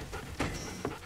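A dog pants close by in quick breathy bursts, with a couple of short sharper whimpering pulses and no voices.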